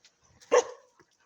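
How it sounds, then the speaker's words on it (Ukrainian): A small, bold dog guarding its territory from atop a fence gives a single sharp bark with a faint whimper and tiny yips around it, fairly close and alone. "Така смілива, гавкає на всіх"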